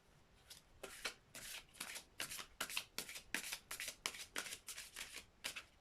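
Oracle cards shuffled by hand in quick repeated riffles and slides, a dozen or so crisp papery bursts in a steady rhythm, close and quiet with no talking.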